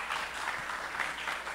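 An audience at a urology symposium applauds, a steady wash of many hands clapping at a moderate level, heard alone without voices.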